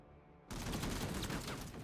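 Gunfire in the tactical video game Menace bursts in abruptly after a quiet moment, a dense, loud rattle of rapid shots that carries on steadily to the end with no talking.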